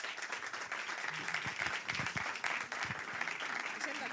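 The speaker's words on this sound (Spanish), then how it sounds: "Y un fuerte aplauso para Judith Martín." Audience applause for a comedian at a comedy and podcasting event, a dense wash of clapping from a crowd that holds steady for a few seconds.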